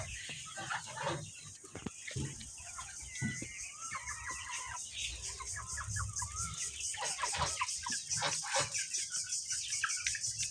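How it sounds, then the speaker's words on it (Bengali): Two-month-old layer hens on a poultry farm cluck and murmur continuously, with many birds calling close by and the sound building in density toward the end. "দেখেন, এখানে 212 পিস মুরগি আছে আমার"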